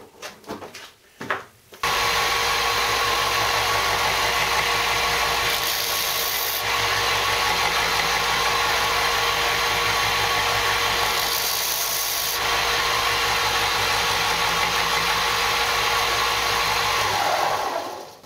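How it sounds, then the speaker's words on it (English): Belt sander grinding steadily against a wooden plaque stand, a loud continuous whirring rasp that starts after a brief pause and runs nearly unbroken, with two short shifts in pitch as pressure changes. "I think I'm going to try and sand down my belt sander just very quickly."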